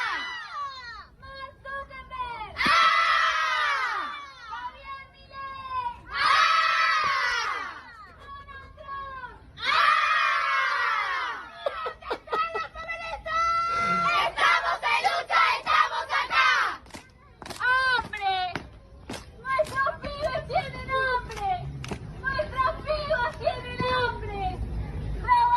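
A large crowd of protesters in Argentina chants and cheers together in loud, repeated rhythmic shouted bursts, followed by a denser stretch of mixed cheering and yelling voices.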